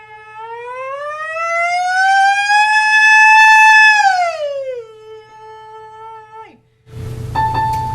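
A singer's vocal siren exercise sliding up to the top of their range, a single voiced glide that rises smoothly, holds high, then drops back down, loud and close, followed by a brief burst of noise.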